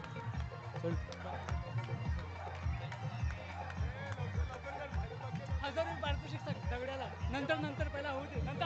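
Spectators at a semi-final cricket match cheering and celebrating, a dense crowd roar with rhythmic pounding beats underneath, steady and loud throughout.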